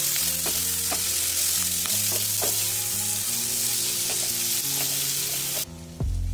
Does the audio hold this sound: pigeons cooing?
no